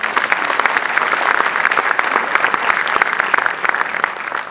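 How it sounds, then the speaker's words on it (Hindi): An audience at a Hindi poetry gathering (kavi sammelan) applauds, a dense, loud, steady wash of clapping that holds for several seconds without talk. "ये फख्र की बात है, इस पर ताली बजानी चाहिए।"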